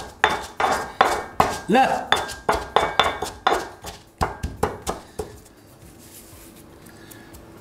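A pestle pounds green peppercorns in a mortar with about a dozen sharp, ringing strikes in a steady rhythm, close and loud, stopping abruptly and leaving faint room noise.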